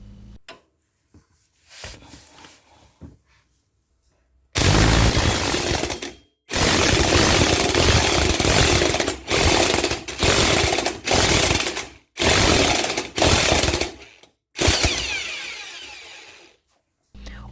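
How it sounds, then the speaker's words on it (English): A pneumatic impact gun hammers at the crankshaft pulley nut of an Alfa Romeo 33 1.5 IE 8V in a workshop, firing in loud close bursts of one to two seconds separated by short pauses, after some quieter clanking at the start. "Only the impact gun can have the pulley nut broken loose."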